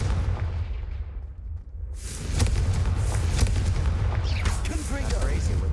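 Confringo blasting spell from the video game Hogwarts Legacy, a booming explosive burst followed by rumbling blasts and crackling debris, loud and close, with a voice speaking over it.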